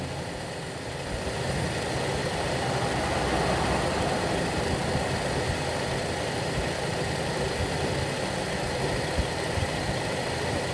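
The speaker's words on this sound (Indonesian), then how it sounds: "Kemudian kita lakukan untuk penyetelan idle screw." A carbureted Toyota Kijang engine idles while the idle screw is being adjusted, a steady, even mechanical hum with no speech, close and continuous throughout.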